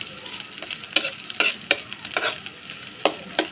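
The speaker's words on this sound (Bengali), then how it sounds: "এখানে দিয়ে দেব পেঁয়াজ কুচি এখন একটু আমি পেঁয়াজটাকে ভেজে নেব" Chopped onions frying in hot mustard oil in a pan, a steady close sizzle broken by repeated sharp scraping strokes of a spatula stirring them, with no talking.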